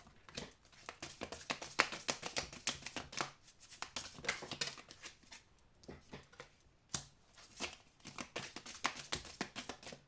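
Tarot cards shuffled by hand in a steady run of soft riffling taps and flicks, close and fairly quiet, with brief pauses, no talking.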